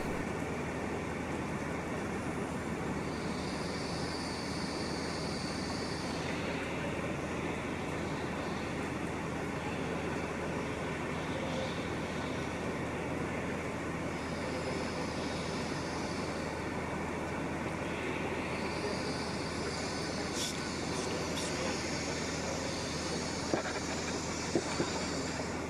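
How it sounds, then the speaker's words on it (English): A diverted LNER Azuma train pulls into Carlisle station with a steady, fairly quiet rumble and rolling wheel noise, joined by faint higher squeals and a couple of sharp clicks toward the end. "The diverted Azumas keep on arriving."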